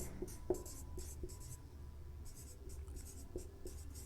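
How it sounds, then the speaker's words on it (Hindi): Hand-writing on a board or paper during a maths lesson on the location of quadratic roots, with soft irregular strokes and taps over a low room hum, no talking. "तो चलिए यहाँ पे हम लिख देते हैं"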